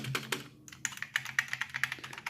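Typing on an Enhance GX-K3 mechanical keyboard with clicky switches, a quick close run of sharp key clicks after a brief pause, crisp and rapid.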